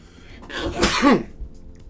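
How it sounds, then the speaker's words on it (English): A single close sneeze, a quick sharp burst that trails off into silence. "That play was so hard I had to sneeze."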